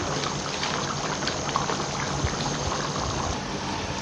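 A pot of chicken fried rice with egg simmering as its water cooks off, a soft continuous bubbling and hiss at low level with no talking.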